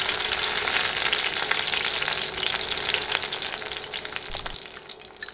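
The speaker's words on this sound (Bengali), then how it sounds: "এরপর তেলে দিচ্ছি 5 ফোড়ন" Five-spice seeds and dried red chillies fry in hot oil for dal, giving a dense, bright crackling sizzle that gradually eases toward the end, with a couple of faint utensil clicks.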